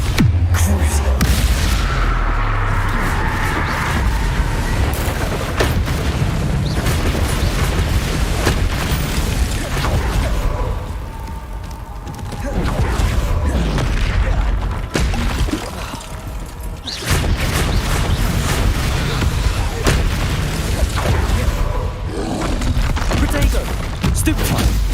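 Bombarda spell explosions in Hogwarts Legacy mixed into a dense, loud, continuous rumble of blasts and magical combat, with brief dips between bursts and a voice calling out spell names over it.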